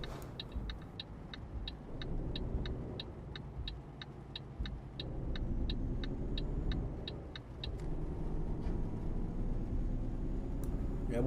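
A low, steady Volvo truck engine rumble in Euro Truck Simulator 2 drones close by, with a rapid series of light ticking clicks over it early on, like an indicator.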